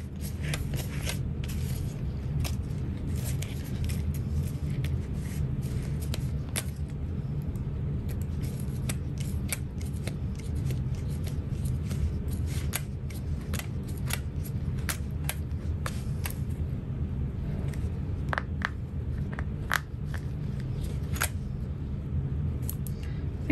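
Scissors snipping loose threads on a sewn vinyl shoulder bag, a series of quick faint clicks scattered over a steady low rumble of background noise, with no talking.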